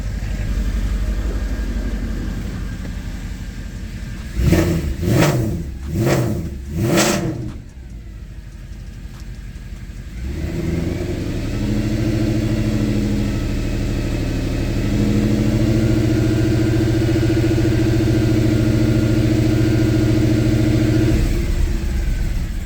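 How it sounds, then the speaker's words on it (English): A Mercedes E63 AMG engine idles, then blips the throttle three times in quick succession, dropping back to a steady, loud idle drone that holds for the rest of the stretch. "All right, let's rev it and watch it go into limp mode."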